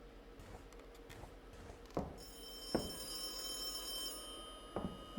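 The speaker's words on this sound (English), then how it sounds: "Now the phone's ringing." A telephone rings in the haunted-hospital game Charon's Staircase, with a trilling bell tone sustained through the second half amid faint thumps and knocks and low room noise.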